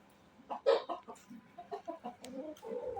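Sussex chickens cluck and chatter nearby in short, uneven bursts, a few hens murmuring over one another with no talking, after being let out of their coop.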